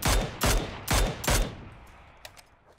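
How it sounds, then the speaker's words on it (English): Four heavy gunshot bursts from a PUBG firefight on the Miramar desert map crack out in quick succession, loud and close, then trail into fading echoes with a faint distant shot near the end. "I'm gonna take shots at this guy who's blue."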